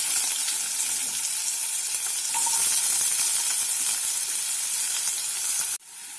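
Onions and garlic frying in hot oil, a loud continuous sizzle and crackle close up that cuts off abruptly near the end, leaving a quieter hiss.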